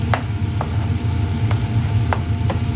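Onions sauté in butter for butter shrimp, giving a loud, steady, close sizzle. A few sharp clinks of stirring cut through it at irregular moments, and no one speaks.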